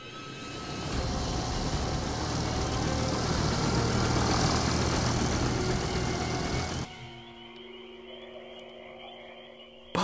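A cartoon helicopter engine roars in a loud, steady drone for several seconds, then cuts off sharply and gives way to a quieter hum.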